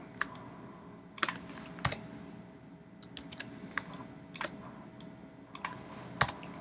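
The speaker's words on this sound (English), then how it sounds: "And just hitting delete and Command D." Computer keyboard keys are pressed in irregular sharp clicks, some hard taps standing out from lighter typing, close and alone without speech.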